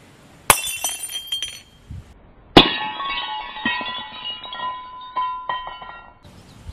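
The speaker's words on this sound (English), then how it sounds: "It completely shattered everywhere." A loud sharp crash of a glass jar smashing, then a second heavier shatter with shards tinkling and skittering for several seconds afterward.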